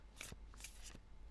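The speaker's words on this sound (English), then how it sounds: "So I'll just give these a quick shuffle" Animal spirit oracle cards being shuffled by hand, a few quick riffling bursts heard close and quiet with brief pauses between them.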